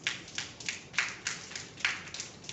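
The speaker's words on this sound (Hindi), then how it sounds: "अब धीरे धीरे उसको 2 उंगली से बजाइए।" An audience claps softly using two fingers, producing a series of light, quick, fairly faint taps in an irregular rhythm.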